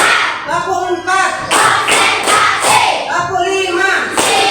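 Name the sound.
class doing a rhythmic group clapping routine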